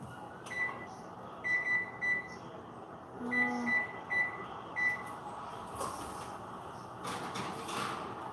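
An oven beeps while being set to preheat: a handful of faint, short electronic beeps in an irregular pattern over steady kitchen room noise.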